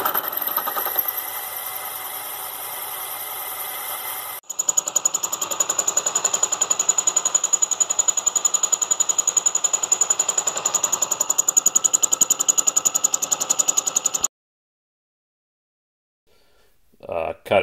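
A milling machine boring out a part of a 5 ton Dake arbor press, a loud rapid rhythmic machining chatter that cuts off abruptly, followed by silence and a brief noise at the end.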